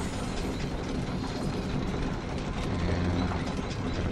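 A grinder trap in the game Orcs Must Die! 2 churns with a continuous mechanical ratcheting, gear-like clatter, steady and moderately loud with no speech.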